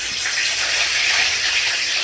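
Curry leaves hit hot oil with a steady, loud hiss and crackle while tempering after cinnamon and cloves, for a chicken dish cooked at home, the sizzle holding evenly throughout.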